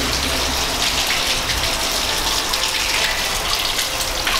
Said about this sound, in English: Water leaking out of the ceiling.